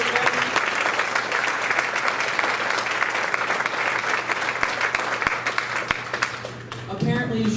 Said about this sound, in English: How about we give Corey a round of applause and move it to you again.